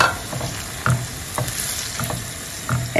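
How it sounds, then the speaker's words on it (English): A steady sizzle of beetroot stew sauce frying in a pot, with periodic scraping and clinking of a spoon stirring, close by and fairly loud. "Stir everything in."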